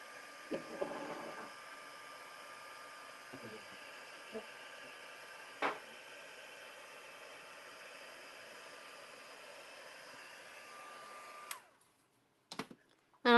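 Heat dryer blowing to dry paint on a mixed media artwork, a steady airy whirring drone held for about eleven seconds before it switches off, followed by a few brief knocks.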